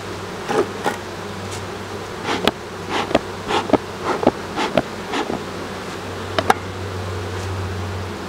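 Honeybees buzz steadily at an open hive, with a low constant hum and occasional short crackles and rustles rising above it; no speech.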